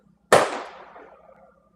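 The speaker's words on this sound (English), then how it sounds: "Did you hear that gunshot?" A single sharp gunshot cracks out nearby and decays over about a second, standing alone without voices.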